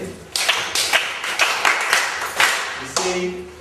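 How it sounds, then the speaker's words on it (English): A class in a Kenyan school science lesson claps together for a pupil, in a series of sharp, fairly even bursts of unison hand claps close by in the room. "Good, clap for him."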